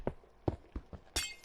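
In a Minecraft ORES mod setting, a glass-like tile block is struck in a few quick thuds, then breaks with a short bright shattering crack at the end.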